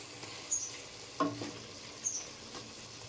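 Chicken dum biryani being stirred while it cooks, a few soft scraping strokes and light sizzling, quiet and close, with no talk.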